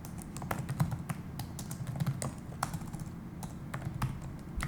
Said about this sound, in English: Typing too quickly.